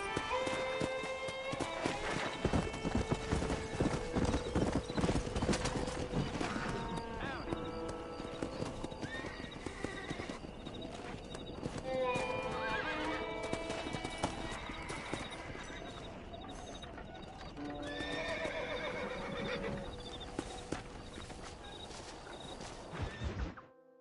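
Horse hooves clip-clop steadily and horses whinny repeatedly in Red Dead Redemption 2, with game music and shouted voices throughout the busy, continuous scene.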